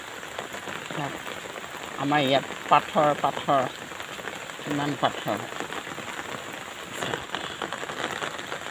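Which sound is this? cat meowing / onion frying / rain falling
rain falling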